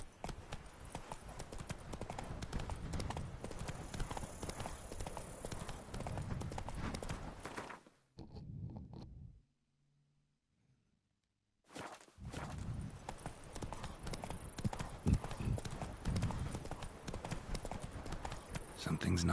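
Geralt's horse Roach from The Witcher 3 galloping, rapid rhythmic hoofbeats pounding close and loud under a voice, cutting out to near silence midway before the galloping resumes just as strongly.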